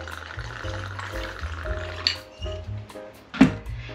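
Tequila pours over ice for a skinny watermelon jalapeño margarita, with close liquid trickles, drips and a few sharp clinks of ice against the glass, all quiet and alone over about four seconds.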